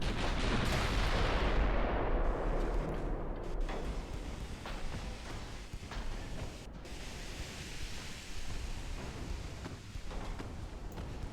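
Battleship guns firing in the naval video game Ultimate Admiral: Dreadnoughts as the USS Tennessee engages, heavy booming blasts and rumbling roar with sharp cracks, loud and continuous without talk.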